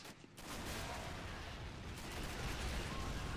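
Artillery support run in the Men of War Assault Squad battle game, a dense continuous roar of rumbling blasts and crackling fire that fills the whole moment, loud and unbroken.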